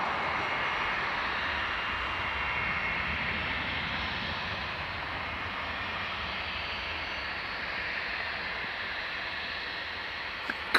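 An aircraft engine at Dublin Airport drones with a steady broad roar, holding constant and fairly loud for the whole stretch, with no voices over it.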